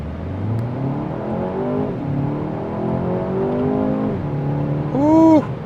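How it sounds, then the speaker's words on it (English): A 2026 BMW 228i sDrive launches hard from a standstill, its engine note climbing loud and close through several rising sweeps, with a shift break before a final surge. "I will try to get a good launch. Off the line,"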